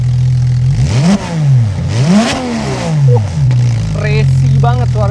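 A Porsche 911 GT3 RS fitted with an aftermarket exhaust revs hard in three or four sharp blips over a steady idle, then gives a few shorter crackling throttle stabs, all loud and close.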